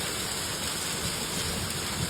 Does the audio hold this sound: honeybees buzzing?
no